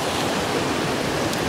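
Water rushes forcefully into a rainbow trout pond at a fish farm, a dense, loud, steady roar of pouring and churning water throughout the brief moment.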